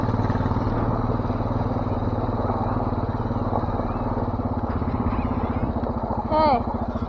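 An ATV engine runs steadily and close up while four wheeling, with a continuous low drone and rumble lasting throughout and a brief higher whine near the end.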